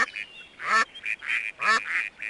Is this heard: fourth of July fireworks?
no